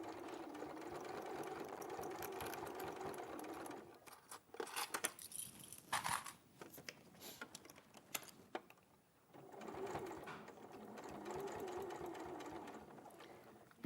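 A domestic sewing machine runs in steady whirring bursts as it stitches around a fabric seam and a curved nose section, pausing briefly midway with small clicks and handling knocks before the motor starts up again.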